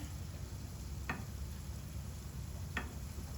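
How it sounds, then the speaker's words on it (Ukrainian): Potato and meat pirozhki frying in oil over medium heat, a steady soft sizzle throughout with two brief crackling pops, quiet and close, no talking. "І тепер обсмажую в олії."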